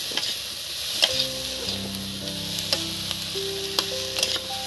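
Potatoes and bitter gourd sizzle and fry steadily in a pan, a continuous hiss with faint tonal ringing and occasional soft ticks and pops, close and alone without talk.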